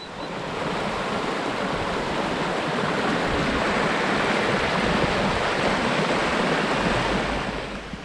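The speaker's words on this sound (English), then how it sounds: "just ended up by the waterfall there" Steady broadband rush of a waterfall beside a trail on a drizzly day, a continuous full-bodied roar that swells in and holds at an even level throughout, with no voices.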